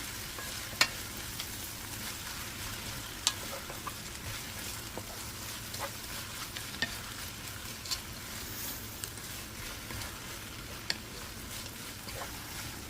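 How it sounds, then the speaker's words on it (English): Sweet bitter leaves (bekang) are stirred while cooking in a pot, a soft, steady sizzle broken by faint, scattered scrapes and clicks of the spoon, fairly quiet throughout with no voices. "Mix everything to combine."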